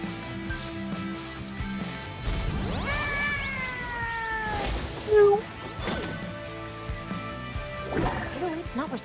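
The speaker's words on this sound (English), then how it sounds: "Meow." A cat meowing in the action rhythm game Hi-Fi Rush, a few sliding meow-like calls mixed with game music and effects, with a character's voice heard in the scene.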